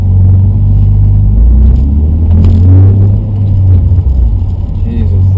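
A car drives through hot Florida traffic, heard from inside as a loud, constant low road and engine rumble, with a voice talking over it.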